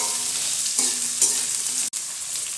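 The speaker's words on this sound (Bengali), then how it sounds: "এবার আমি এর মধ্যে মটরশুঁটি দিয়ে দিলাম, দিয়ে ভালো করে সবজিগুলো আমি ভেজে নেব।" Peas, green chilli and mixed vegetables fry in a pan for Indo-Chinese veg fried rice, giving a steady, close sizzle broken by a couple of brief stirring scrapes, with no talking.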